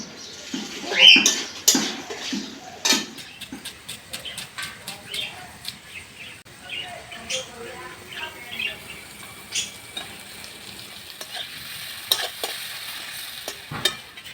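Fried potatoes stirred in a pan on a clay stove, close scraping strokes in an irregular rhythm over a soft sizzle, with faint background sounds between strokes.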